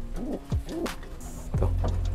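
Young pigeon (squab) cooing softly near a loft, several short rising and falling coos in a loose rhythm, close and fairly clear with no talk over it.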